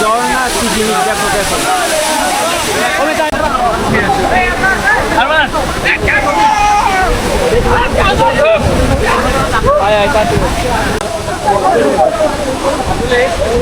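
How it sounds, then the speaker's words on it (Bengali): Waterfall in Chattogram, Bangladesh: a loud, constant rushing roar of falling water fills the scene while people talk and call out over it. "ঝর্ণা কি জিনিস দেখো।"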